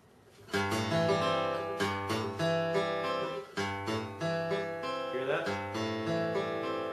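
A strummed guitar chord rings out, struck several times in a steady rhythm, with the unmuted fifth string sounding slightly muddy and dissonant in the mix; no talking.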